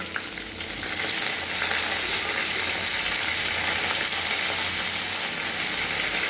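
Vegetables and curry leaves sizzle steadily in hot oil for vegetable vermicelli bath, a dense, even frying hiss close by with no voices.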